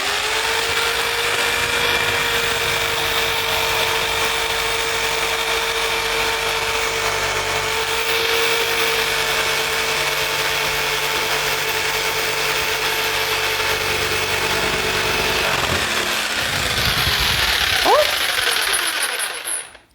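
A jigsaw run at full speed cuts a laminate countertop with a continuous, steady buzzing whine that holds for about fifteen seconds before it slows, shifts pitch and stops.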